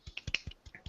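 Several crisp finger snaps land in quick succession on a live gaming podcast, close and faint, roughly evenly spaced like a small round of snapping applause.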